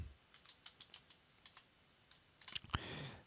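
Keystrokes on a computer keyboard while working in AutoCAD: scattered, evenly spaced clicks build to a quicker, louder burst of typing near the end, with no voices.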